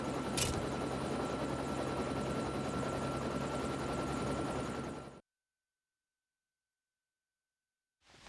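Helicopter in the video game Dangerous Hunts 2 gives a loud, continuous rotor and engine drone for about five seconds, then cuts to abrupt silence.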